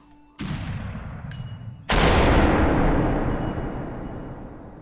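Two sharp gunshots in the video game Superhot, each a loud sudden crack followed by a long fading ring, the second heavier and nearer, with a short voice before them.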